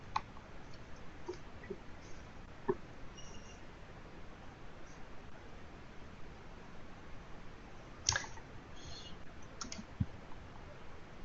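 Mouse clicks on a computer while setting up a user password in AWS: a few sharp, isolated clicks near 2.7, 8 and 10 seconds over a faint steady room hiss.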